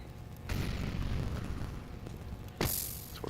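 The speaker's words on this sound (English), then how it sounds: "Molly as well to follow up." A molotov incendiary grenade in Counter-Strike bursts into flame with a loud whooshing pop, followed by sustained roaring burn noise and a second sharp flare near the end, with no talking.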